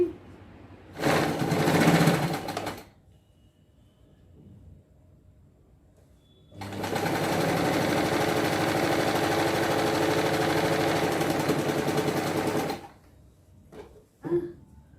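A sewing machine runs in two bursts as it stitches the neck-to-shoulder seam of a designer dress: a short two-second run, a pause, then a steady six-second stretch of close, loud motor whir, followed by a few small clicks.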